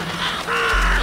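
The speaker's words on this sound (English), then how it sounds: "Crows." Crows caw in the graveyard of the video game The Vanishing of Ethan Carter, their harsh calls blending into a dense, hissing ambient bed, with no voices present.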